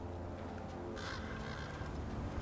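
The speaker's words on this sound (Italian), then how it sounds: "Sento corvi." Crows cawing in God of War Ragnarök, a brief burst of harsh calls rising from a steady low ambient bed of game wilderness sound.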